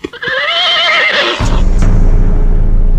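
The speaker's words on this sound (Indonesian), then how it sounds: "mendadak terdengar derap dua ekor kuda mendekat" Horses in a radio drama sound effect, a loud close whinny followed by a heavy rumbling of hooves that continues to the end.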